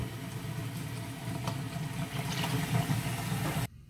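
Hot water pouring into a container for a Dharma dye-fixative soak of fiber, a loud, steady rushing gush that runs on continuously and then cuts off abruptly near the end.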